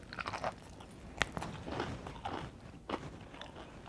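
Crisp crunches of teeth biting into crispy buttermilk fried chicken coated in flour and cornstarch, several close, sharp bites and chewing crackles in quick succession.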